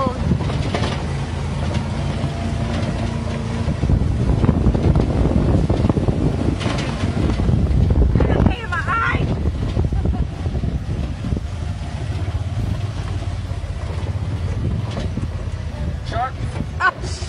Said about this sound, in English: Off-road golf carting.